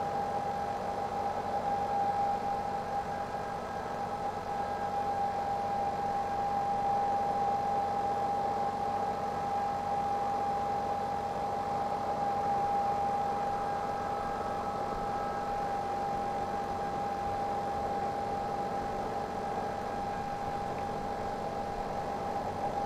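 Radial aircraft engine drone in a flight simulator game, a steady, unbroken hum with a sustained tonal whine, even and continuous throughout with no talk.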